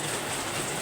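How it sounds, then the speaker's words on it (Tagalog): Heavy early-morning rain pours down in Dasmariñas, making a dense, steady, loud hiss with no pauses and no voices. "Kasalukuyan umuulan ngayon dito sa Dasma. Malakas guys."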